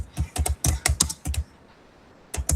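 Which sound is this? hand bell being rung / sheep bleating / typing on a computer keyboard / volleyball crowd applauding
typing on a computer keyboard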